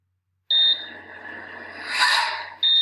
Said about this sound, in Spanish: oiréis 3 pitidos indicando que el sistema de control dice que ha parado el programa